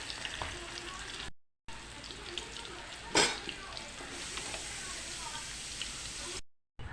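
Potatoes and papaya fry in oil in a pan, giving a faint, continuous sizzle with a brief clink partway through and no talk.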